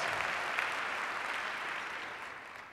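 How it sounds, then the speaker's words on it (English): A round of applause for middle schools at a State of the Schools event, a broad, steady clapping from a large audience that slowly fades toward the end. "Let's give our middle schools a great round of applause."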